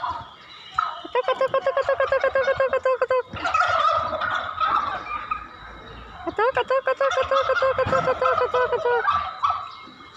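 Turkeys gobble in rapid, rattling bursts, several calls in a row with short pauses between, loud and close.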